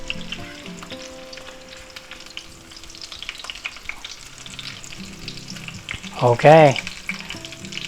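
Chicken cutlets for chicken parmesan fry in a pan with a strong steady sizzle, swelling louder as they are flipped near the end; a voice speaks briefly.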